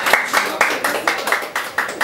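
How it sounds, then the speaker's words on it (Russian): An audience at a Moscow talk event claps in quick, steady bursts, close and fairly loud, for about two seconds with no other sound. "ребята, аплодисменты"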